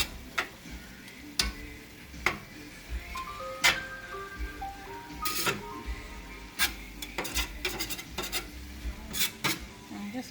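Meat browning in a pan for lasagna, with a steady low sizzle broken by sharp irregular pops and crackles and occasional clinks of a utensil against the pan, close up and without talk.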